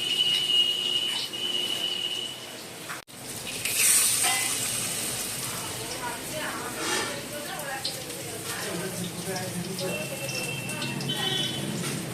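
Five-greens fritters (pach shak bora) sizzle in a hot pan of oil in a Bengali home kitchen, a steady close frying hiss with faint voices in the background.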